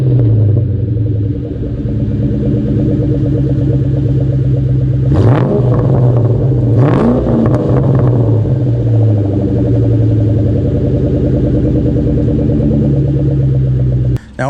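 A 2004 Ford Mustang SVT Cobra with stock headers, a Bassani X pipe with cats and a Borla Stinger cat-back exhaust idles with a deep, steady burble, then revs sharply twice before settling back to a loud, rumbling idle.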